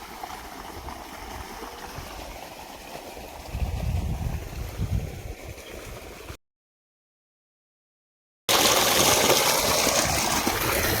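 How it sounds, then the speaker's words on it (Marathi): A water pump motor hums as water rushes steadily to irrigate a sorghum field, with a louder splashing burst partway through; after a short gap the flow returns much louder and closer. "आता झाली मोटर चालू पाणी पाणीही येते"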